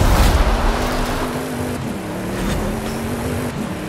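An Audi RS7 driving in a racing video game, a loud steady engine drone with a rising and falling tone as it accelerates, continuous with no talk.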